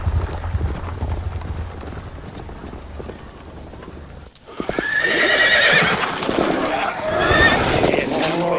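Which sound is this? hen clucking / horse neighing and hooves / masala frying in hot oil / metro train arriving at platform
horse neighing and hooves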